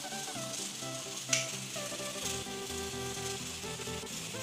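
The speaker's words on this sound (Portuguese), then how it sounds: "Quando você vê que seu alho já deu uma boa dourada, você vai adicionar o macarrão." Pasta dropped into a pan of golden fried garlic sizzles and crackles steadily, with a brief sharp clatter as it goes in and a faint stirring scrape, no voices.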